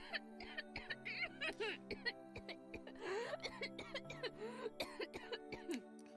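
Repeated coughing and throat clearing from a video game character, choppy bursts mixed with voiced sounds and a faint chuckle, close and moderately loud.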